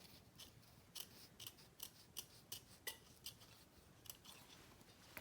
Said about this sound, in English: Just finished the card slot, so we'll go ahead and trim off this extra bit.